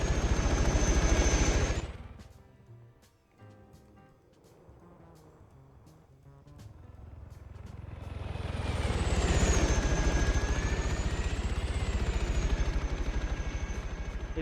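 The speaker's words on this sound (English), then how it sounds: "And a helicopter that comes in." A video game helicopter whirs in, fading away under thumping and clatter, then returning loud with a choppy rotor drone and a whining engine pitch.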